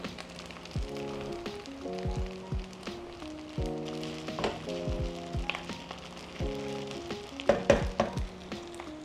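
Beef pares fried rice sizzles and crackles in a wok, with steady frying hiss and intermittent tonal scraping and stirring sounds from a spatula against the pan.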